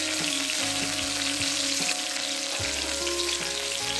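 Green chilli and onions fry in hot oil with a loud, steady, close sizzle and crackle, broken by soft stirring bumps and a faint low hum underneath, and no talking.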